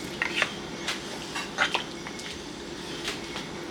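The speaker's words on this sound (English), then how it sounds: "Keep stirring quite often because you don't want it to catch on the bottom" A spoon scrapes and taps inside a pot while lamb shank sauce is stirred, with soft, scattered clinks and light squelches over a quiet kitchen background.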